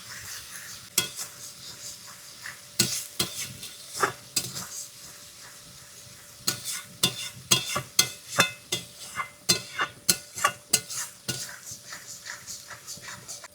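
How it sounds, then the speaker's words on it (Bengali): Masala stir-fried slowly in a pan, with a run of sharp spatula scrapes and knocks over a faint, low sizzle. The strokes come in clusters that quicken toward the end, and no one speaks. "এবার সুন্দর করে আস্তে আস্তে মশলাটা ভেজে নিই।"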